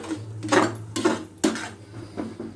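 Dum aloo potatoes stirred in a pan with a spoon: a few scraping, clattering strokes against the metal over a low steady hum, close and moderately loud.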